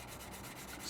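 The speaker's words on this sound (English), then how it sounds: "I'm just sanding this top bit here" Sandpaper rubs against the plastic of a 1/48 scale Airfix BAe Hawk T1 Red Arrows model kit, a faint, steady scratchy hiss of close sanding with no voices.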